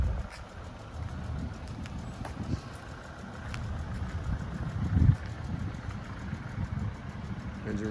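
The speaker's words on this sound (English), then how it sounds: "Engine runs fine." A salvaged 2016 Lexus RC sits with its engine idling, a steady low rumble holding even throughout with one brief louder bump midway and no talk over it.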